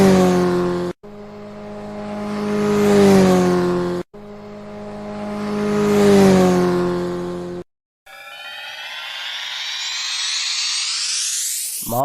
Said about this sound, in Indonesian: sepeda motor